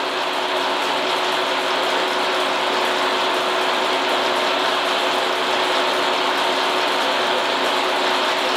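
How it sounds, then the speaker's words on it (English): A milling machine running at its slowest speed cuts a brass gear tooth with a single-tooth hand-ground cutter, giving a steady, loud mechanical whir and grinding hum that holds unchanged throughout. "And start cutting our first gear tooth."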